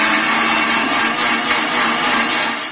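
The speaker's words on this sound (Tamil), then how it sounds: "மிக்சியில் அரைச்சி எடுத்தா முடிஞ்சிச்சு" A mixer grinder blends aloe vera gel with curry leaves, giving a loud, continuous motor whir that stays even and close for the whole stretch, with no voices.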